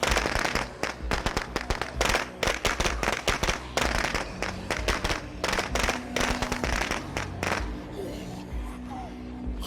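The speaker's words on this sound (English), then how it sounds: "Throw more firecrackers out" Rapid strings of sharp video-game firecracker pops burst in dense, irregular volleys, loud and crackling, with a few scattered bangs trailing off toward the end.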